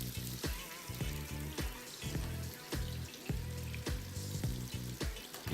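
Breaded veal escalope frying in butter in a pan, a steady loud sizzle punctuated by regular sharp clinks and scrapes of a utensil, close up and without talk.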